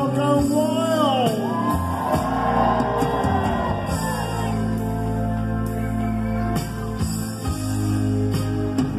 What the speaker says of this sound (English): the center stage crowd go wild